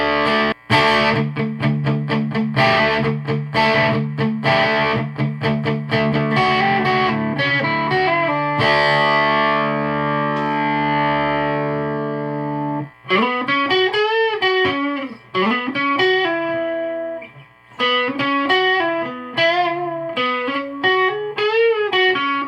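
Homemade four-string, diatonically fretted stick dulcimer with one pickup, played through distortion and chorus effects: a loud, sustained, heavily saturated melody with strummed chords, then rapid picked notes with brief pauses between phrases.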